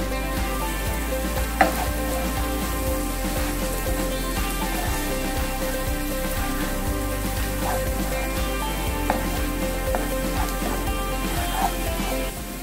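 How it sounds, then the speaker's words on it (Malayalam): Masala seasoned with turmeric and chili powder sautés in a pan for a Kerala-style mackerel dish, giving a steady, moderately loud sizzle with occasional stirring scrapes and no talking. "മസാല എല്ലാം നന്നായിട്ട് വഴന്നിട്ടുണ്ട്"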